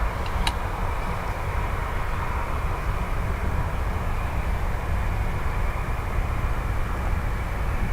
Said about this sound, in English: The noise of the planes is something like brown noise used to help people.